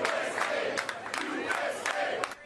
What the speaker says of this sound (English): a crowd of volunteers showed their appreciation